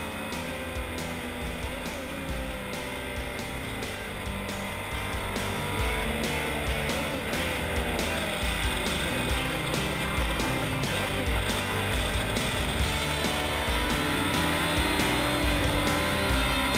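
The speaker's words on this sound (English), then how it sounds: "here Jacques Nicolet is at the wheel of his Duckham's LM." A Duckham's LM race car driven by Jacques Nicolet runs at the Le Mans Classic with a steady loud engine roar that builds slightly over the run, with faint tire noise and no talk.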